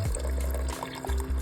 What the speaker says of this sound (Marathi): तर गाईज, हे पाणी जे आहे ते मी भाजीमध्ये ॲड करणार आहे.